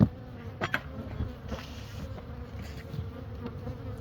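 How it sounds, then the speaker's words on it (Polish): Honeybees buzzing at a wooden hive in late autumn, a steady close drone with a few louder passes of single bees flying by, no voices over it. "Tutaj jest sporo sporo pszczoły."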